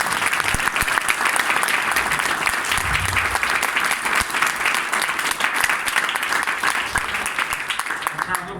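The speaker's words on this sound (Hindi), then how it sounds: "अब एक बार अगर समझ में आए तो ताली बजा दो।" A seated audience at a Hindi-language talk bursts into sustained applause, dense rapid clapping from many hands filling the whole stretch at a steady loud level.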